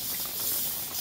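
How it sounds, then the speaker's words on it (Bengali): A steady, loud hiss of steam rises as water hits ground spice paste frying in oil for a vegetarian curry, continuous and close with no talk. "মশলা বেটে রাখা জলটা দিয়ে দিচ্ছি।"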